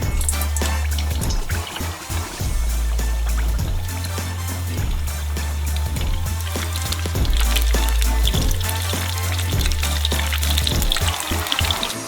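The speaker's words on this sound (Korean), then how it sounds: "예열되면 미니 피자를 투하해서 튀겨주세요." Mini calzone pizzas sizzle and bubble in a pot of hot oil on the stove, a dense, continuous crackling fry with a steady low hum beneath it and no talking.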